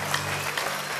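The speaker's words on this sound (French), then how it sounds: "Acclamez très fort." Crowd applauding at a revival gathering, a dense steady wash of clapping with a few sharper bursts, fairly loud and continuous through the short stretch.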